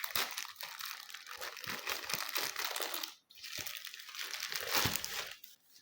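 A plastic bag holding thin pastry sheets for ouzi crinkles and rustles nearly nonstop at close range, in soft irregular bursts with a brief pause midway.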